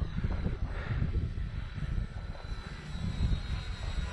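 An RC Tundra model airplane flies in roughly 10 mph wind, its engine drone blending with gusty, rumbling wind buffeting the microphone, continuous and moderately loud throughout.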